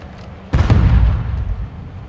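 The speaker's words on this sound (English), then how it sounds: "Throwing grenade!" A grenade blows up in Call of Duty: Modern Warfare II, a single sudden, heavy, close boom that hits hard and then rolls into a long, loud rumble before slowly fading.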